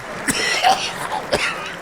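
A single person coughs a few times, short throaty bursts close to the microphone.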